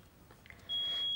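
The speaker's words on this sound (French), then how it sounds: "si je veux arriver à faire cesser ce bip" An electronic smoke detector gives a sustained high-pitched beep that starts partway through and holds steadily, preceded by faint clicks and handling noise as wires are disconnected.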